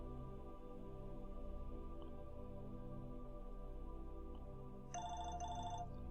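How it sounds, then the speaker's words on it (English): A phone rings with an electronic tone that begins late and repeats in two short bursts over a steady low hum and background tones from a Kerbal Space Program game session. "And my phone's ringing"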